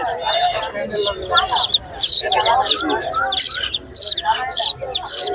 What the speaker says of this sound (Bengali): পাখিটা বাচ্চাকে খাওয়াচ্ছে